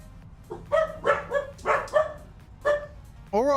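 Dogs barking in a Farming Simulator 25 farm scene, a quick run of about six close, loud barks followed by a rising whine at the end.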